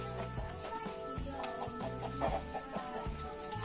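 Chickens clucking and calling throughout, several birds at close range in a small urban poultry coop over a steady farmyard background.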